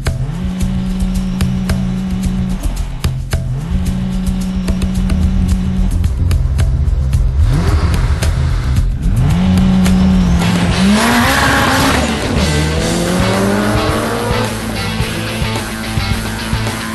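An Aston Martin V12 and a Toyota Corolla race hard on a track, loud engines revving and droning with gear changes, tyres squealing and skidding through corners, passing close and roaring continuously throughout.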